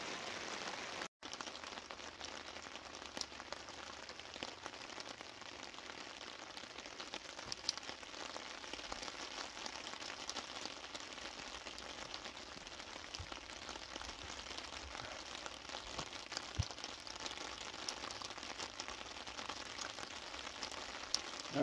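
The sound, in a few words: rain falling on a tarp over a campfire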